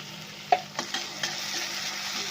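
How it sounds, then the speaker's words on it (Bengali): Spice masala with cumin powder fries in a pan for a Bengali coconut aloo dum, a soft sizzle under a few brief scraping strokes of a stirring spoon, close and without speech. "মশলাটা ভালো করে নাড়াচাড়া করে ভেজে নেব।"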